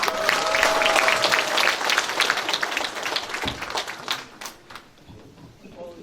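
A party members' gathering in Incheon applauds a lawmaker after her speech, dense clapping and cheering that starts strong and gradually thins out and fades.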